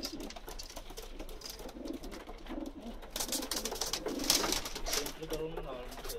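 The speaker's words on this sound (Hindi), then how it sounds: "ये जी अली वाला कबूतर है।" Soft pigeon coos from an old Pakistani pigeon murmur in a steady, close rhythm, with low chatter and a bit of background noise around them.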